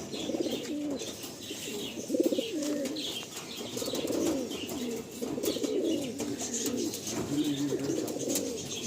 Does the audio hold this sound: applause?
no